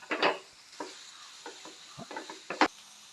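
Chopped large onions being stirred in a hot pan for a Kerala pearl spot fish dish: a few scraping, clattering stirs with a light sizzle underneath, fairly close and uneven in rhythm.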